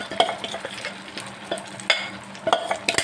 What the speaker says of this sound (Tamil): இப்போ வந்து கைவிடாமல் இப்படி கிளறிக்கோங்க